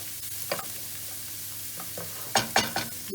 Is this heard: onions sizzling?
yes